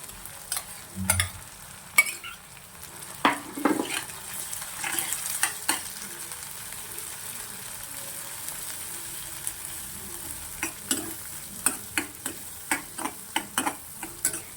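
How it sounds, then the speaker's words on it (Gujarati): Pressure-cooked chickpeas (chole) sautéed in a pan with a little oil, a soft steady sizzle broken by sharp scraping and tapping of a spoon against the pan at irregular intervals, no voices. "અને આપણે 1 મિનિટ માટે સાતળી લઈશું."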